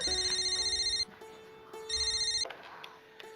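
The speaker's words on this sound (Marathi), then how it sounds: "फोन वाजतोय." A telephone ringtone sounds in two bright electronic bursts of about a second each, separated by a pause, fairly faint and clear with no one talking over it.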